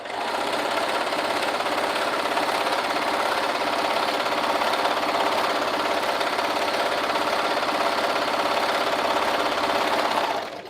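A sewing machine stitches cuffs and liner pieces, running as a steady, close, continuous mechanical whir for about ten seconds before stopping, with no talk.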